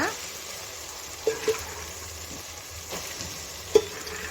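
Vegetables added to tomatoes frying in a pan, a soft steady sizzle with a few light thumps and clinks as pieces drop in and get stirred.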